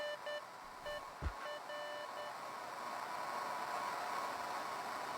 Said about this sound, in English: Sounds like Morse code.